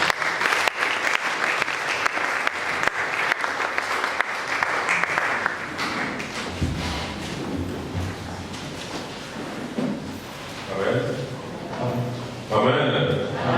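A French church congregation breaks into loud, sustained applause and acclaim during a service, hands clapping steadily and then softening as voices rise and talk carries on over the crowd.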